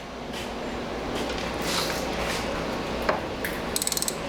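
A ratchet wrench works a 9/16 motor mount bolt on an ATV being taken apart, giving a steady clicking ratchet sound over broad mechanical noise, then a quick run of sharp pawl clicks near the end.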